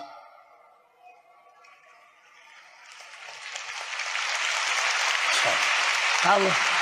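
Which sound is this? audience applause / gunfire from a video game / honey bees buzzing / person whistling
audience applause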